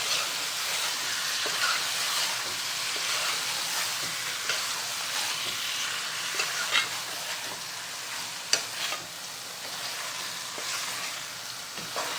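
Pomfret fish frying in masala in a pan over a high gas flame, giving a steady, close sizzle with a few louder pops and crackles throughout, no voices.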